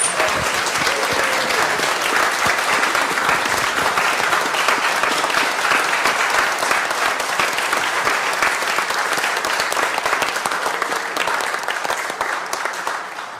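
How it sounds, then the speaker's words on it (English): A congregation at a Unitarian Universalist Youth Sunday service breaks into a full, steady round of applause, sustained and dense for over thirteen seconds before starting to taper at the end. "I invite you all to give a round of applause."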